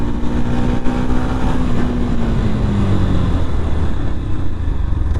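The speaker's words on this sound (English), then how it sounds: "Let's do a braking test." Riding a Yamaha FZ-X motorcycle during a braking test, with a loud continuous engine note and wind rush whose pitch falls steadily as the bike slows, and no one talking.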